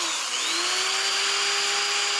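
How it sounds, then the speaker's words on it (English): A step drill bores holes in an acrylic boat panel, a loud steady whining drone that holds at one pitch, with a brief dip near the start, and no talking. "we're going to go ahead and drill 1, 2, 3, 4, 5, 6 more holes"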